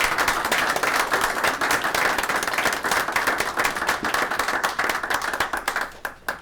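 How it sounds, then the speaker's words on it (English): Sustained applause from a large crowd at a school district board meeting, dense steady clapping that holds strong throughout before thinning slightly at the end. "One round of applause."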